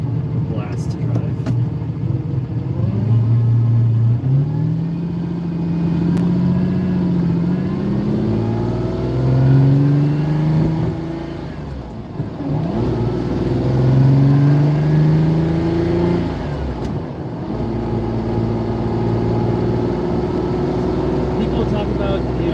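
Lamborghini Countach engine pulling through the gears on the road, a loud steady drone with rising pitch sweeps and brief dips at shifts, a voice talking over it throughout.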